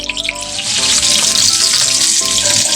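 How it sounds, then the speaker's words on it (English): A porterhouse steak sears hard in a very hot pan, giving a loud, steady, close-up sizzle that runs unbroken throughout. "Press down the steak, give it a nice sear."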